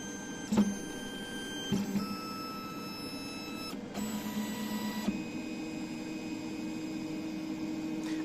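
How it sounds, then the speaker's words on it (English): A bioprinter runs automatic bed leveling calibration, giving a steady machine hum with soft tonal motor whines and a few brief clicks and knocks, no voices. "we start the first part of the calibration, that is to do the automatic bevel leveling"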